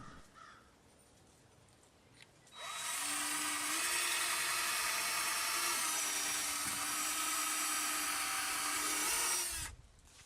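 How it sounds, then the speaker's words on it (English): A power drill boring pilot holes into wood during a seed-starting setup build, one loud sustained whine of about seven seconds with a slight pitch shift, starting and stopping abruptly after a quiet lead-in. "then drill a pilot hole where the nails had been."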